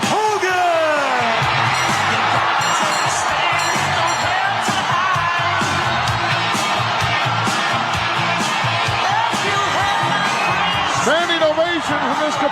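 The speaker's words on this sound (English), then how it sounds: "Standing ovation from this capacity crowd with a champion, Hulk Hogan." A capacity World Wrestling Federation arena crowd roars in a standing ovation for champion Hulk Hogan, with sustained loud cheering, whoops and shouts as an announcer talks over it.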